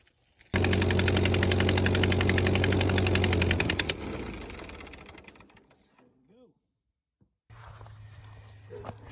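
A Ford 8N tractor engine chugs loudly and steadily for a few seconds to burn off the fuel left in the carburetor, then sputters, fades and dies. After a short silence a low hum starts again.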